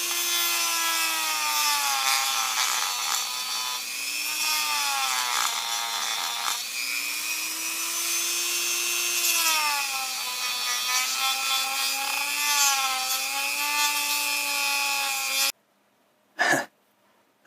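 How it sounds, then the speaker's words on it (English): A Dremel rotary tool grinds through thick cooler plastic in a close, high whining buzz whose pitch wavers up and down as it bites, running continuously before cutting out, followed by a short burst of noise. "Maybe a Dremel tool?"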